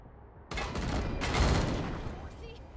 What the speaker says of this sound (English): Should I shoot the oil can?